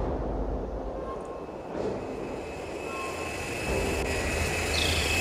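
A pickup drone arrives with a steady aircraft engine drone in the dinosaur-hunting game Carnivores Dinosaur Hunter Reborn, a continuous mid-level hum that swells slightly toward the end without voices.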